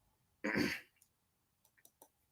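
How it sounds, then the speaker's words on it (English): A single sharp throat clearing, loud and close, followed by a few faint clicks and small breathy noises. "clear my throat there"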